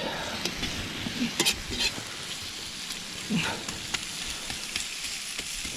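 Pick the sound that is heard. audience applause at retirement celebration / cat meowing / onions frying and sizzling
onions frying and sizzling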